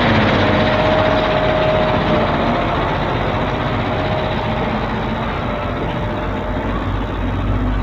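Tractors and road construction machinery run continuously at a roadbuilding site, a loud, steady low engine rumble with a faint whine and no talk.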